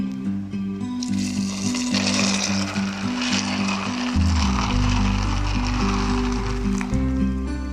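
Hot water poured into a pot of washed lobia beans for soaking in a home kitchen, a steady close splashing and gushing stream running continuously with a low droning hum underneath.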